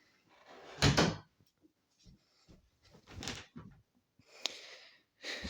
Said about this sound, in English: hang on, I gotta go close the door